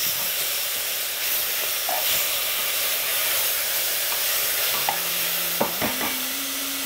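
Tomatoes going into a pot of Moroccan harira soup, with a steady broad sizzle and hiss and a few soft scraping stirs near the end, close and fairly loud throughout with no talk.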